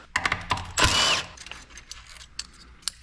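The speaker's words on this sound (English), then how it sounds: "let's get our shift ratchet spring off" Metal clicks and scrapes come from work on a 4L80E transmission as its shift ratchet spring is pried off, with sharp ticks, a louder rasping burst near the start and scattered small taps afterward.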